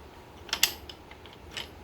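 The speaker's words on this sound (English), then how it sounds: "let's tighten down the blade again. Press the button." On a DeWalt DCG412 cordless grinder, the blade is tightened with a few close, sharp metallic clicks and a brief ratcheting burst. Quieter clicks follow against a faint background.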